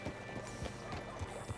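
Horse hooves clip-clop steadily in Red Dead Redemption 2, a quiet, muffled rhythm of soft thuds over a dense game ambience with no voices.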